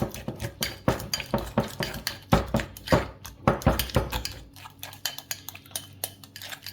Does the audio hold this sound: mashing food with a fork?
yes